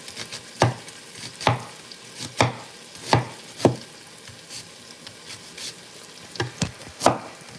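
Meat sears in a pan under a soft, continuous sizzle, broken by a series of sharp, spaced knocks and scrapes of a utensil against the pan.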